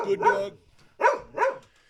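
A dog barks in three loud, close bursts with short pauses between them, the first a doubled bark, ringing out in a room during a live show.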